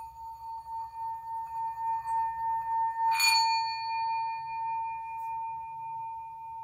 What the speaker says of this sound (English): So what I have here is a singing bowl, and it comes with a mallet or a striker.